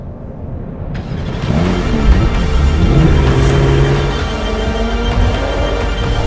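Car engine starting up and revving, a sudden onset followed by a rising, loud mid-range roar that holds steady and then eases slightly, close by.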